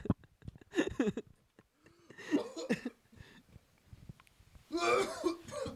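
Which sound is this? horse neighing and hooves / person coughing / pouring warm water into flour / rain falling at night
person coughing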